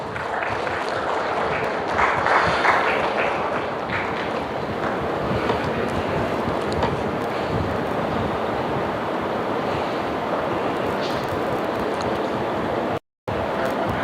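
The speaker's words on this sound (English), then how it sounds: "Can I have a round of applause?" Audience at a business school HR conference applauds in a dense, steady wash of clapping that runs for about thirteen seconds before a brief dropout near the end.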